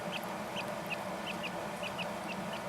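Quail chicks feeding and jostling one another, giving steady soft cheeps and short high peeps repeated in a loose rhythm over a constant background rustle.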